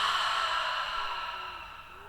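A long, steady breath is exhaled during a flowing yoga class, with a soft airy hiss that fades slowly over about two seconds. It is close and even, with no talking over it.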